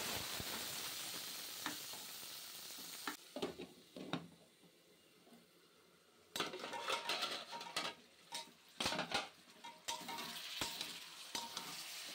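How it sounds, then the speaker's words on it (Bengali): Cumin seeds and green chilies sizzle steadily in hot oil in a pan as a tempering for bottle gourd, with intermittent stirring scrapes and sputtering bursts, close and fairly loud. "লাউ দিয়ে কাঁচা লঙ্কা ফোড়ন দিয়ে জিরে ফোড়ন দিয়ে আমি বসিয়ে দেব"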